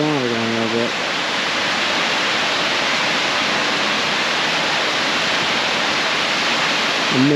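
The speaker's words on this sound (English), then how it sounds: "We got falls over here." A steady, broad rushing roar of water falling at Gooseberry Falls, Minnesota, fills the clip continuously, with a voice briefly audible at the start and end.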